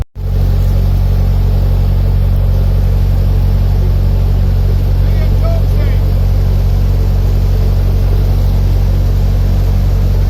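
A loud, constant engine drone dominates throughout, a steady low rumble from a boat speeding past close by on the tidal River Trent, with little change in level.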